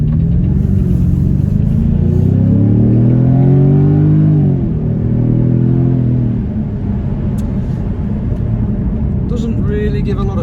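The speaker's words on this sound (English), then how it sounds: "we are in dynamic mode with the exhaust valves open" A 2020 Jaguar F-Type P300 coupe with a 2-litre engine, in dynamic mode with exhaust valves open, revs up then settles into a steady, fairly quiet mid-range engine drone heard from inside, with a rising and falling pitch sweep midway.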